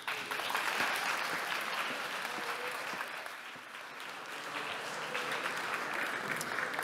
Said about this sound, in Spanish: Vamos a recibir con un gran aplauso a José Manuel.